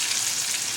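Fish frying in a pan for an Indian fish fry, with a steady, close, loud sizzle filling the whole moment and no voices over it.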